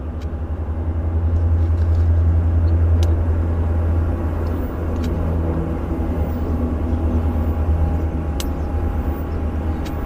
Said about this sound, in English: He's light, obviously, with a very short takeoff roll on it.